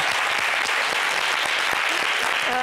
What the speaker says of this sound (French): un applaudissement pour ce peuple!